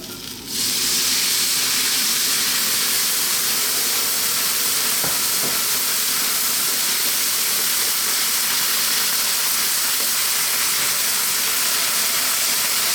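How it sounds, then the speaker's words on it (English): Water hits a hot pan of bell peppers for sweet and sour tofu, setting off a sudden loud sizzle that settles into a dense, steady hiss of frying and steam, with no talking. "I'm going to add just a little bit of water."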